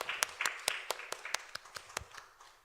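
A church congregation claps in a slow, even rhythm, about a dozen distinct sharp claps spaced evenly, fairly faint and fading at the end.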